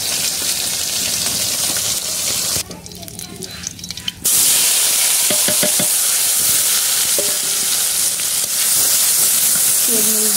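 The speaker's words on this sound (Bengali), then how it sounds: "পেঁয়াজ মরিচ ভাজা ভাজা হয়ে গেছে" Chopped onions and chilies sizzle loudly in hot oil in a pan, a steady frying hiss briefly dipping in the middle as they are stirred, with a few scraping clinks near the end.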